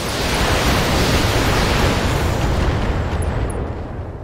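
A BattleTech video game mech fires all its weapons at once: a loud, dense roar of overlapping blasts that fills the whole moment and slowly eases toward the end.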